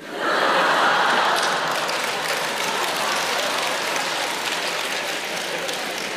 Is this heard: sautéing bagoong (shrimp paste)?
no